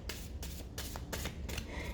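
A deck of playing cards being shuffled, a few quick riffling bursts repeating in a steady rhythm, close and fairly quiet with no talk.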